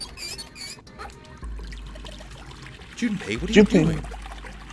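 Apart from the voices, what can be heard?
faucet water running in video game Nine Hours, Nine Persons, Nine Doors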